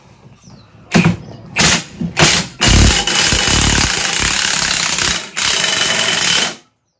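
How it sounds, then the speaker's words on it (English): A ball joint press works a ball joint out of a Dodge Ram 1500 front end, producing loud, harsh bursts of pneumatic-style hammering, several short hits followed by sustained rattling runs that stop abruptly. "It's just a regular ball joint press slash U-joint press."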